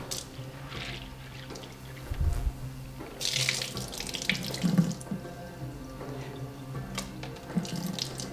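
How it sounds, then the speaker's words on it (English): Yellow fava beans rinsed under a running kitchen tap, a steady close stream of water splashing into a sink with small bursts of sloshing as the beans are moved about, no voices. "I'm gonna wash the beans"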